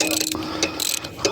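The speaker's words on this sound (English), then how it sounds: "This piece of shit ratchet slipping." A ratchet slips and clatters while a Generac Guardian 24 kW propane generator is being serviced, giving a quick run of sharp, close mechanical clicks over about a second.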